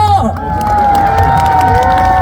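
Outdoor crowd at a cold winter Samcheok Jeongwol Daeboreum festival claps and cheers loudly, with a sustained shout or sung tone riding over the dense crowd noise.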